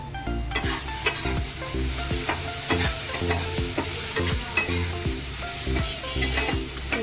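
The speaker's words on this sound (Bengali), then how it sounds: "ভিন্ডি ভাজাটা" Okra (bhindi) fries in a pan with a bright, constant sizzle, broken by rhythmic scraping and clattering as it is stirred, close and fairly loud, with no talking.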